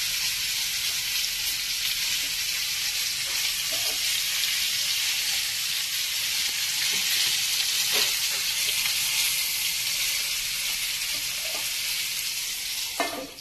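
Stuffed brinjal simmering in masala gravy over a low gas flame, giving a steady close sizzle and frying hiss that runs throughout, with faint stirring scrapes now and then.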